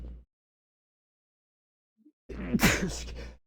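A single loud, explosive sneeze bursts out after a stretch of near silence, preceded by a brief faint sound.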